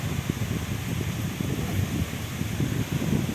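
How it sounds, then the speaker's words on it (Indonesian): Strong wind at a beach buffets the microphone in a steady, low roaring rush with gusty surges and no voices. "cuma lagi angin guys, jadi angin bawa kabar"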